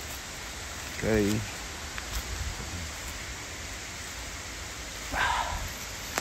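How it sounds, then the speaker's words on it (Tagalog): A steady, faint hiss of a waterfall rushing somewhere off in the distance on a forest trail, under brief snatches of talk and a few light knocks. "tingog lang sa waterfalls, no?"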